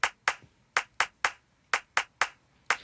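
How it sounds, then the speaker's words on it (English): Sampled hand claps for a Brazilian EDM track, chopped into groups of three in a row: crisp, dry, close claps repeating in a quick rhythmic pattern with short gaps, nothing else beneath them. "I kind of chopped it a little bit and made it that now I have the 3 claps in a row"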